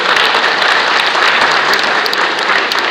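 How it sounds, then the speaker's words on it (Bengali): A theatre audience at a drama festival event applauds loudly and continuously, dense even clapping filling the hall with no speech. "তার জন্য একটা জোরে হাততালি হোক"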